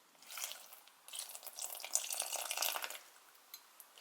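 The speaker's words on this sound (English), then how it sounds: "Then I put some water in." Water pours and splashes into an Aztec clay mask mixture in a bowl, a soft close trickling with uneven gurgles and small drips, quiet and with no talk over it.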